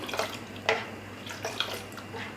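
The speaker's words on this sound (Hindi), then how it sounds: "इस तरह से आप 8-10 मिनट इसको फेंटें।" Kashmiri pink tea with cold water added is beaten vigorously in a pot, making close, irregular liquid splashes and sloshing strokes with a few sharper clinks, heard alone without talk.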